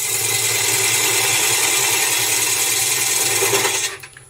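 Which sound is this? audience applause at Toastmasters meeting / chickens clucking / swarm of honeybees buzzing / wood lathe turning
wood lathe turning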